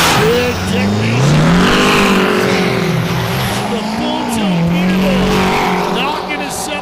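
Peterbilt and Kenworth trucks drag racing at a Yellowstone dragstrip truck fest, engines roaring loud and steady with shifting pitch for the whole stretch while a commentator talks over them.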